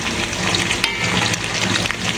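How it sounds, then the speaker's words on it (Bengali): A dense, loud, continuous sizzle of ginger garlic paste frying with onions in a big pan of chicken kosha, heard up close without any pause. "এবার আমি পেঁয়াজের মধ্যে আদা রসুনের পেস্ট দেব"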